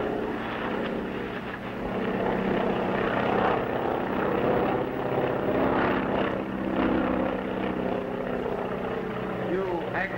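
A propeller plane drones steadily overhead in a 1939 Royal Mounted adventure, a continuous low engine roar under voices talking throughout.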